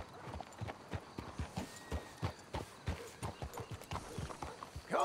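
Steady clip-clop of horse hooves walking at an even pace, close and clear, with no talking, from the video game Red Dead Redemption 2.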